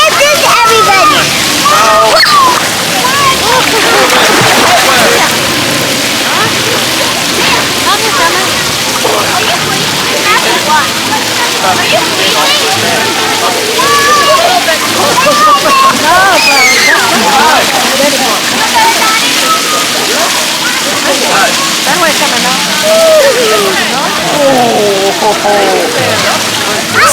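Water sloshing and splashing steadily in an outdoor hotel swimming pool at Pop Century on a chilly day, a busy continuous wash of splashes with voices chattering faintly underneath.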